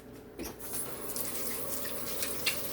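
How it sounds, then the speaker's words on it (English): A kitchen tap runs while hands are washed under it, a close, fairly quiet stream of water splashing into the sink with small shifts as the hands move, with no talking. "I'm going to wash my hands again"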